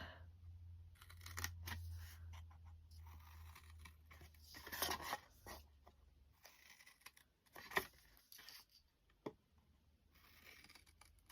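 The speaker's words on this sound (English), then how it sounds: "now what I'm going to do is I'm going to cut up each of these lines just up to the score mark" Scissors snipping craft paper along marked lines up to a score mark, for a handmade gift box: a few sharp, sparse cuts with quiet pauses between them, close but soft.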